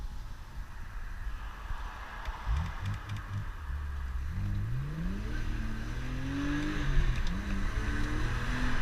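A BMW 1 Series car engine is heard through an open window under heavy wind noise, revving up through a couple of rising pulls as the car accelerates, fairly faint and with no talk.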